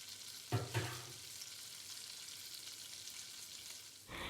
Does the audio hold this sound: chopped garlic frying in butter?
yes